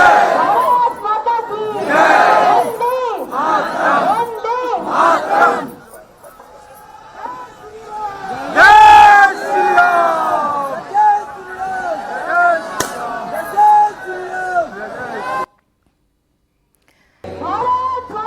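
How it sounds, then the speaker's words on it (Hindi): A large crowd at a Hindu padyatra procession loudly chants Bharat Mata ki Jai and Vande Mataram slogans, rhythmic massed voices rising in waves with cheering, ending in a brief silence before the chanting resumes. "भीड़ ने भारत माता की जय और वंदे मातरम के नारे भी लगाए"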